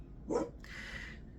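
A single short dog bark indoors, followed by a brief whiny yip or whimper, fairly close and alone without speech.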